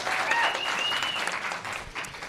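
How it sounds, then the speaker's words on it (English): A panel audience at a careers-in-space discussion gives a fairly quiet round of applause for a panelist, the clapping steady and soft before tapering slightly near the end, with a faint tone over the opening. "I think she deserves a round of applause."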